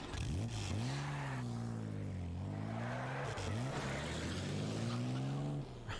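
A car engine drones steadily during a chase scene in the video game Devil's Hunt, its pitch rising and falling as it accelerates and shifts, loud and continuous with no talk.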